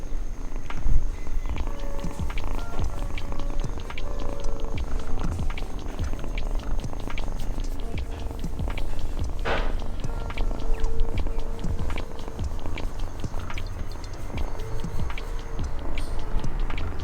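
A farm cat purring close up near a gas stove flame, a continuous rhythmic rumble with steady pulses, fairly loud and unbroken, no talking.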